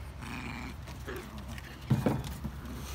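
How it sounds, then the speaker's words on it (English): Dogs scuffle and growl playfully nearby, with low rumbling snarls and a burst of louder growling partway through. "listen to the crazy dogs play"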